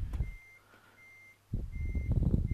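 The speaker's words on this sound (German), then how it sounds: "Stattdessen fährt er rückwärts." Intermittent high electronic reversing beeps from a truck backing up in Euro Truck Simulator 2, repeating evenly over a low engine hum that swells louder midway through.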